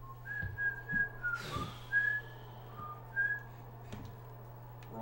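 A person whistles a few short rising and falling notes, softly and at moderate distance, over a steady low hum with faint rustling between phrases.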